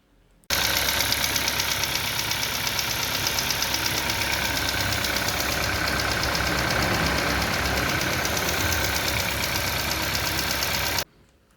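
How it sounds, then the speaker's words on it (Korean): A Hyundai Sonata DN8 engine runs at a steady idle with a rapid, even rhythmic throb, starting abruptly and holding constant for about ten seconds before cutting off. "엔진 소리도 아주 좋게 잘 나오고 있습니다"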